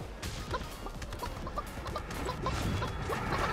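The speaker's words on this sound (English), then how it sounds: "Now right here, there's a chicken" A chicken in the video game Realm Royale clucks in a quick run of short, choppy calls mixed with light in-game thumps, fairly faint and without talk.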